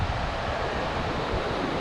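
Natural hot spring water at Gaurikund flows in a steady, rushing wash, a dense unbroken roar close by with no voices.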